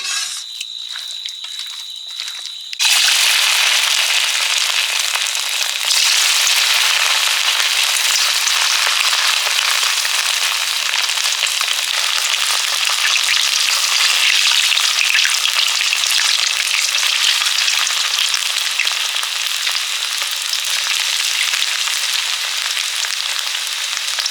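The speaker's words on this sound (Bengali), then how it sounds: "চিলি চিকেনে চিকেনটা ভাজবো গোলমরিচ দিলাম গোলমরিচটা দেয়া হয়নি তেলটাও গরম হয়ে গেছে" Chicken pieces seasoned with black pepper fry in hot oil for chilli chicken, a loud, continuous, close sizzle that bursts up after a quieter start and crackles steadily throughout with no talk.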